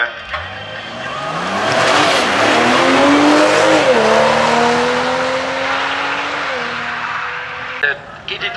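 A Porsche GT3 RS race car climbs the Glasbach hill climb in Bad Liebenstein, its engine screaming through rising gears and shifts, loud and near, with tire noise and a commentator talking over it.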